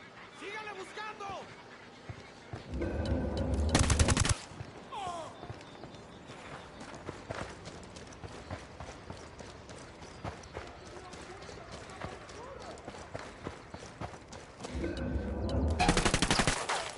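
Sniper gunfire in Ghost Recon Wildlands, with bursts of loud sharp shots near the start and again near the end, between stretches of quieter rattling game sound and talk.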